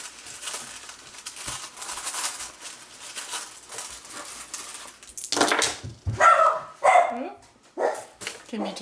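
A dog barks in several sharp, close bursts, reacting to noise from new neighbours moving in upstairs. Indoor background rustling and thumps sit under the barking, and a person talks during the clip.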